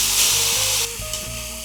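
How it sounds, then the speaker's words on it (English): Buldak noodles hitting a hot pan, giving a loud, close, continuous hissing sizzle with a steady frying crackle and a tonal hum underneath, and no talking. "Let's transfer them into the pan."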